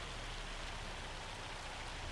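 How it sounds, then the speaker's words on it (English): Hail falls in the Farming Simulator 25 video game in rural Alma, Missouri, a steady, dense patter of pelting noise that holds evenly throughout with no one talking. "It's hailing."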